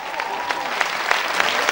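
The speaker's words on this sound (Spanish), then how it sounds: "Un aplauso para el canal de la música" A live concert audience at a 2009 rock show claps together, a bright, even roar of applause with scattered louder claps that runs steadily through the short stretch.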